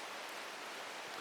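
Steady rain hiss from the Strange Horticulture video game, a soft, even wash of falling drops with no clear thunder, continuous and low in level with no voices.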